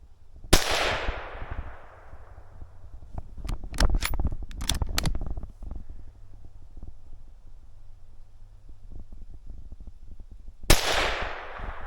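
Two sharp, loud gunshots ring out outdoors during a late winter squirrel hunt on public land, each with a long decaying echo, separated by rustling and handling noises in between.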